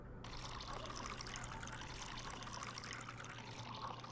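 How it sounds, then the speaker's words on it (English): Water trickling and pouring steadily into a cooking pot in the VR game Job Simulator's kitchen, a continuous liquid dribble over a low hum, with no talk. "I added water in there."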